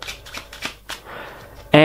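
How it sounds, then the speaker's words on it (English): A full deck of playing cards gets a false shuffle, several quick riffling flutters and soft snaps close up, ending in a sharp, loud burst of cards. "And now, I'm going to give the deck a false shuffle,"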